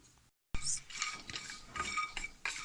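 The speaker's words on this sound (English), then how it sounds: "Stand here and stir it." Keto candied pecans stirred in a pan, with a spoon scraping and clinking against the metal in quick irregular strokes, close and fairly quiet after a brief silence.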